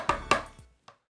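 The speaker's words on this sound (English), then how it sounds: "add half a cup of chopped up kimchi" Kimchi being chopped on a cutting board for bindaetteok batter: two crisp knife strikes close by, a softer third, then a faint chop and one last sharp hit after a pause.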